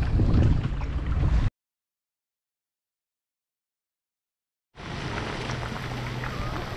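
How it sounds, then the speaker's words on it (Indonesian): Rain reaches a seashore after kayak fishing, with a steady hiss of drops and gusty wind on the microphone. It breaks off into silence, then returns as even, close rainfall. "Hujan pun sampai."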